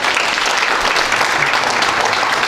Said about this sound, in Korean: 박수 크게 보내주세요